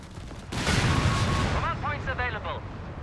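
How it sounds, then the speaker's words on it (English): A new explosion effect in the Company of Heroes 3 strategy game: a sudden loud artillery-like blast that rumbles and fades, with a commentator talking over the tail. "It's got a new explosion effect."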